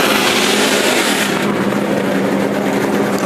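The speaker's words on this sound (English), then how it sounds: "I'm getting warmed up as the engines are firing up" A dense, loud roar of several race car engines firing up together in a race garage at Atlanta, steady and close, with a brief drop in brightness partway through.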